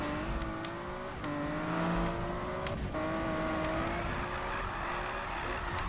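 A Nissan Skyline R34 drifts in Need For Speed, its engine revving loud and close with rising and falling pitch sweeps broken by brief shifts and tire noise.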